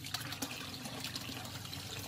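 Running water pumped up from a river into a holding tank, a steady splashing, trickling flow close by that fills the whole stretch evenly, with no voices over it.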